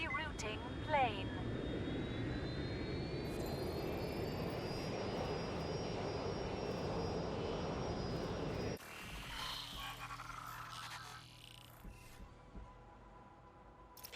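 An airplane engine in the video game Watch Dogs Legion drones as a steady low hum for several seconds, then cuts to a quieter, sparser mechanical texture, with no talking.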